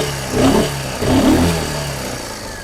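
A Royal Enfield motorcycle engine, freshly repaired after a cracked crankcase, runs nearby with a steady low thump that swells in two brief revs before settling to idle.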